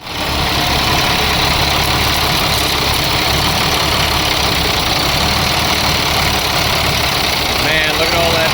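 International DT466 diesel engine running steadily, loud and close, with a constant idling rumble; the slight surge in revs is hard to make out. Brief voices come in near the end.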